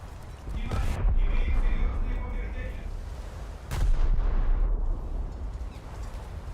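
Two heavy booming salvos of ship guns from a naval battle video game, with Yubari as a target, each blast loud and rumbling with a long decaying roar, spaced a few seconds apart.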